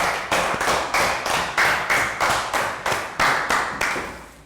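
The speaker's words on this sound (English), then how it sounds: "Rounds of applause for Bang pon." A primary school class claps for a classmate during a health and fitness lesson, giving about a dozen loud, even, synchronized claps in a steady beat, close by and with no talking.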